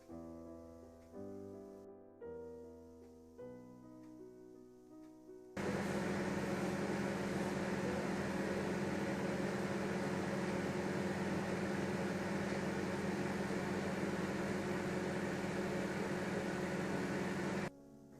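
A steady, loud mechanical hum with a broad whirring hiss of a microwave oven heating khoya (mawa), starts abruptly after a few soft tones and continues unbroken until it stops.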